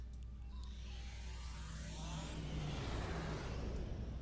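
Slipstream drive engaging on a starship in Star Trek Online: a faint, steady rushing roar with a low hum that swells slightly toward the end, no talk over it.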